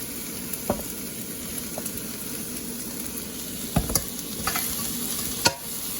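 Broccoli stir-frying in a pan for homemade beef fried noodles, a steady close sizzle with a few sharp clacks of a utensil scraping and tossing, no talking.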